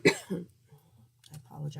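A person coughs at close range, with a sharp burst at the start and weaker throat-clearing sounds after it, in a quiet indoor room.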